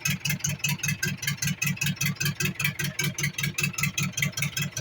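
A just-started engine idles steadily nearby with an even, rapid chugging pulse that holds the same rhythm throughout, with no voices.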